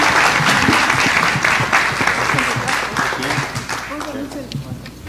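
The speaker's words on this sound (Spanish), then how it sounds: "Un aplauso, por favor." A crowd breaks into steady applause, many hands clapping densely for several seconds before gradually thinning out.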